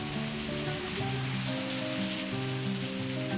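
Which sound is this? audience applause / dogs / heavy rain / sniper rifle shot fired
heavy rain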